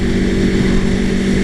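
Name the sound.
Aprilia Tuono Factory motorcycle engine revving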